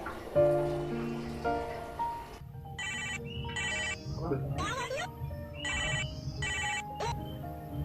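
A phone rings in repeated bursts of electronic trills, fairly close, after some speech; a voice murmurs briefly between rings.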